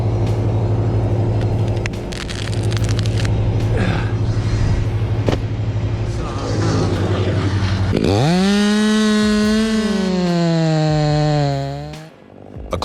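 A big chainsaw cutting into a tree during tree removal: a loud, steady buzzing motor drones for several seconds, then revs up into a rising, strongly pitched whine before dropping off abruptly near the end.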